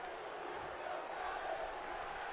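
Arena crowd in the WWE 2K18 wrestling video game chanting steadily, a dense roar of many voices at moderate loudness continuing throughout.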